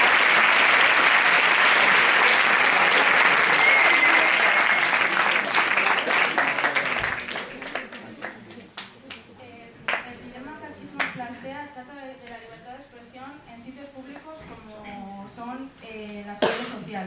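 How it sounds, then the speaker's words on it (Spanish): Audience applause fills the room at a philosophy olympiad final, loud and dense for about seven seconds before fading, after which a voice talks over scattered claps. "Bueno, aplaudimos a todos."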